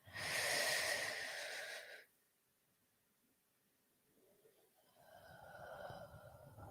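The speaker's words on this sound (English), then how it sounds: "Let's take a nice deep breath to symbolize this nothingness" A single deep inhale during a live guided eclipse meditation: a loud, breathy intake for about two seconds, then near silence, followed by a softer airy breath toward the end.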